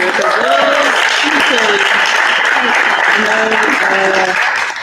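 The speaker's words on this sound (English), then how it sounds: "Let's give one more hand clap for Sierra." An audience at a panel discussion applauds steadily, a dense wash of clapping with voices talking over it throughout.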